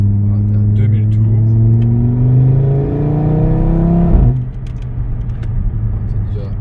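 A 2016 Audi RS3 with 367 hp and 465 Nm pulls from around 2000 rpm, its deep engine note climbing steadily in pitch, then dropping sharply as if shifting before settling into a lower drone.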